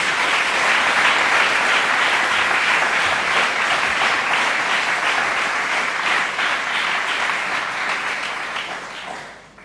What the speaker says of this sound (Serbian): i to zasluži aplauz